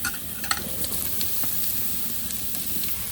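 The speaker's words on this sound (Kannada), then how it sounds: "ಅದನ್ನು ಹಾಕಿದ್ದೀನಿ ಒಗ್ಗರಣೆಗೆ. ಮತ್ತು ಈರುಳ್ಳಿ ಹಾಕ್ಕೊತಾ ಇದ್ದೀನಿ" Chopped ginger and onion sizzle in hot oil for a tempering, a continuous crackling hiss with faint scattered pops and stirring scrapes, close and steady with no voices.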